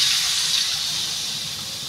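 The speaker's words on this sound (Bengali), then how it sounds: "এটাতে জল ঢেলে দেবো পরিমাণ মতো" Water poured into a hot pan of potatoes for a Bengali egg posto dish, setting off a loud, close, continuous steam hiss that slowly eases over its course, with no speech.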